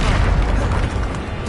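A loud, booming Bombarda spell blast in the Hogwarts Legacy video game fills the moment with a dense, roaring explosion that holds strong throughout.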